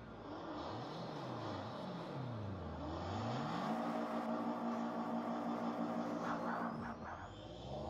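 A race car engine in the Forza Motorsport 5 video game revs up and down with a sweeping, wavering pitch, then settles into a steady loud drone with a slight stutter, continuous and close throughout with no talking.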